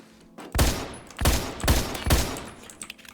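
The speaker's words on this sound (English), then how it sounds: "So I'm sniping everybody across the map with a pistol" Pistol fire in the Roblox first-person shooter Phantom Forces on the Dunes map: four loud, sharp shots spaced about half a second apart, each with a short echoing tail, and no speech.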